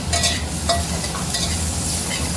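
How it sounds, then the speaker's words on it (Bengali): Tomato and green chili stirred into frying onions for an egg curry, a steady sizzle with intermittent scraping strokes of a spoon against the pan, close and continuous. "টমেটো আর কাঁচা লঙ্কাটা আমরা এভাবে মিশিয়ে দেবো।"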